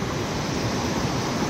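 A mountain stream rushes through forest on a trek, a steady, close, full wash of flowing water with no talking.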